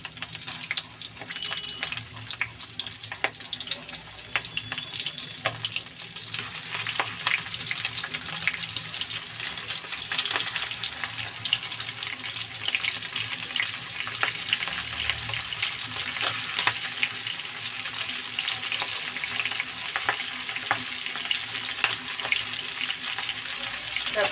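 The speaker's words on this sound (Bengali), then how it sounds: "তেলটাও কিন্তু গরম হয়ে গেছে এবার দিয়ে দেবো সবগুলো একবারে দেবো না অল্প অল্প করে ভেজে নেবো" Prawn heads fry in hot oil in a small batch, producing a loud, dense, continuous sizzle and crackle throughout, with scattered pops and faint stirring.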